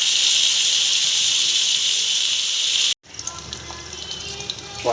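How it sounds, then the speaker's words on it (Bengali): Pointed gourd (potol) sizzling in hot oil, a loud steady hiss for about three seconds, then a brief cut and quieter crackling and bubbling fry. "আর তেলটা গরম হয়ে গেছে। এবার আমি পটলগুলো একটু ভেজে নেব।"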